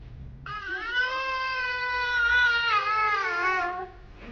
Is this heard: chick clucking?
no